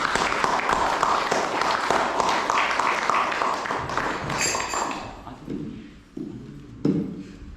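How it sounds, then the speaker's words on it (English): An audience at a kirtan gathering claps in a sustained round of applause, a dense crackle of many hands that fades out near the end, leaving a few scattered claps and taps. "Let's give a round of applause."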